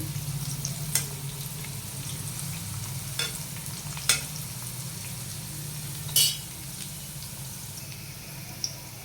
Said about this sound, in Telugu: లైట్ బ్రౌన్ కలర్ వచ్చే వరకు ఆయిల్లో ఉంచాలి.